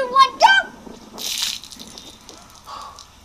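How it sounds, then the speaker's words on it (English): Water gushes and splashes briefly as it is poured over a person's head, a single burst in the middle, with excited talking before it and softer sloshing after. "I just poured water on my head"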